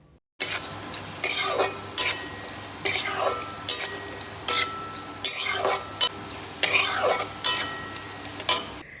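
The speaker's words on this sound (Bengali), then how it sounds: "জিরে গুঁড়োটা আলুর সাথে ভালোভাবে মিশিয়ে নিয়ে" Repeated scraping stirs of a utensil in a pan of spiced potatoes with cumin powder, with faint sizzling underneath, coming in regular bursts about once a second.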